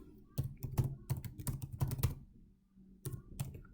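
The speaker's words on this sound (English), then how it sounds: "I'm typing my email ID." Brisk keyboard typing in uneven bursts of clicks, close and fairly quiet, with a short pause before a final few keystrokes.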